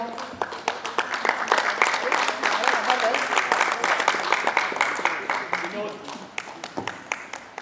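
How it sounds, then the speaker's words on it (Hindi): Loud, sustained applause from an audience at a stage play, dense clapping continuing evenly throughout with no pauses. "जोरदार तालियां"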